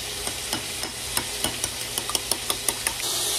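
A utensil beats egg mixed with bitter gourd in a bowl, making quick light clicking taps in a steady rhythm, close and clear with no talking.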